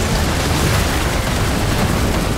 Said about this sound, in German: Es explodiert auf jeden Fall alles und er nimmt ordentlich Schaden.